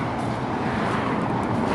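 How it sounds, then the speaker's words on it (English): Road traffic beside a roadside pull-off on the Parker Strip: a loud, steady roar of passing cars and engine rumble, close by and continuous, with no talking. "Sorry about the car noise"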